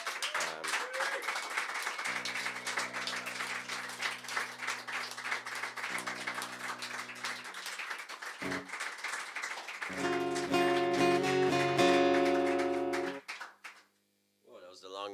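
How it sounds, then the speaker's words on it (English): At a live music session, an audience applauds with a sustained wash of clapping while music plays. A stretch near the end swells louder before cutting off briefly, and voices sit faintly in the mix. "please give them a huge round of applause"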